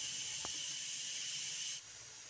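Steady hissing sizzle as water goes into a pan of frying sabudana khichdi, a broad, loud hiss holding for most of the moment before dropping off abruptly near the end, with a brief clink early on.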